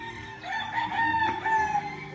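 A gamefowl rooster crows once at a gamefarm in Tarlac, a clear, fairly close call sustained for about two seconds.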